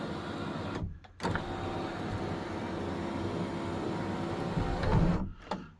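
The moonroof of a Toyota Tarago (Previa/Estima) runs closed with a steady electric motor whir, broken by short clicks near the start and end as it stops, close and fairly quiet.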